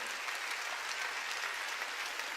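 A church congregation applauds during a sermon, dense continuous clapping from many hands heard at moderate distance.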